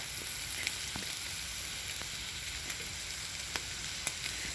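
Steady, loud sizzling of pork on a hot Thai moo kratha grill pan, with occasional faint pops and crackles over a constant hiss.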